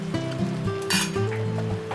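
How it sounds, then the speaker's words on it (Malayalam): Beaten egg goes into a hot pan for a Korean egg roll (gyeran mari), with soft sizzling, light clinks of utensils against the pan and a low steady hum nearby. "ഈ സൈഡിൽ നമുക്ക് ബാക്കി 2 കയ്യിൽ മുട്ട ഒഴിച്ചു കൊടുക്കാം"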